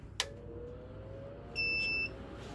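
After a soft click, a single short electronic beep from a medical device low alarm sounds, high and steady, fairly quiet against a low background hum.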